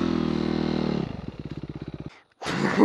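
A dirt bike engine on a night trail ride idles with a steady close drone, then drops into slow chugging pulses, cuts out briefly, and bursts back with a rough roar.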